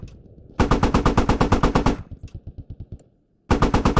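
Automatic machine gun fire in the military shooter Squad, set in Fallujah: two loud sustained bursts of rapid, evenly spaced shots with a lighter rattling stretch between them and a brief silence before the last burst.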